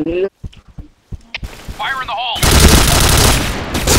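Gunfire in the video game Point Blank: a dense, loud burst of rapid automatic shots fills the last second and a half, following a few scattered game clicks and effects, with people talking between sounds.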